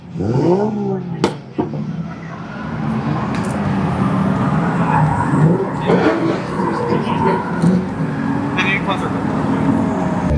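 Drift cars sliding around the track at the Cosmic Drift event and throwing up tire smoke; their engines roar and rev steadily for about ten seconds, with people talking over the noise.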